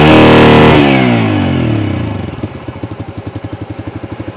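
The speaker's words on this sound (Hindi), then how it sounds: "अब मैं थ्रॉटल जैसे ही घुमाऊंगा तब आप सुनना उसको ध्यान से।" A Bajaj Freedom 125 CNG motorcycle engine, loud and close, revs hard under the throttle, then drops back to a steady idle with a regular pulsing putter.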